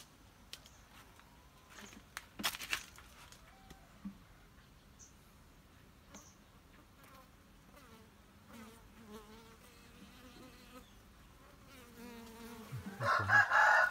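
Bees buzzing faintly around hives, a soft drone with brief louder passes close by and a sharper burst of buzzing near the end, with occasional rustles.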